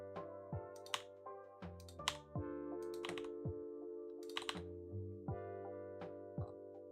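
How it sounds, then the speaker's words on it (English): Computer keyboard typing, a close, fairly quiet series of irregular clicking keystrokes with short pauses, heard alone without talk. "I'm typing a report."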